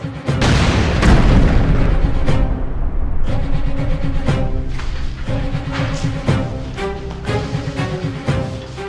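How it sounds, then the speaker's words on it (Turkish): A bomb goes off in a Turkish action drama scene: a loud, booming blast followed by sustained rumbling and crackling debris under dramatic music, with no speech. "Bomba bu! Kaçın!"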